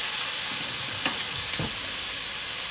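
Beef burger patties for cheeseburger sliders fry in a pan without oil over a medium flame, a loud steady sizzle and hiss, with a couple of soft knocks as a patty is set down.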